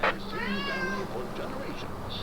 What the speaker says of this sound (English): Do you hear a strange meow sound in the background?